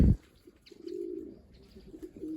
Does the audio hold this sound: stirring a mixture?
no